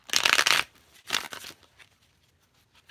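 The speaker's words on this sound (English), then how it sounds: "Last shuffle." A tarot deck is shuffled in two brisk riffling bursts, the first longer and louder, with soft card handling trailing off after. The cards are close and crisp and no one speaks.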